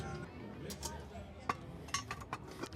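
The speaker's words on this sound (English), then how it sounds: "I'm gonna put a pan in here" A metal pan set into a cast iron Dutch oven, giving several sharp metallic clinks and clanks, close and fairly quiet, spaced unevenly over a low background hum.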